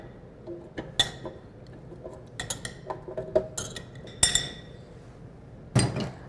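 Tomatoes and tomatillos drop into a blender jar, giving a scattered series of sharp clinks and knocks with quiet gaps between them.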